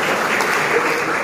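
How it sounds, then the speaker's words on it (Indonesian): Applause from a congregation at a Christian civil servants' worship service in Rote Ndao, a dense, even burst of clapping from many hands. "Kita tepuk tangan dulu untuk semua yang"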